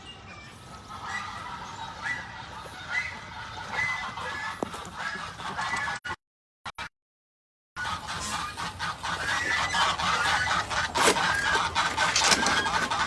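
Chickens and roosters clucking and squawking in a noisy farm barnyard, continuous background chatter of birds, briefly cut out midway.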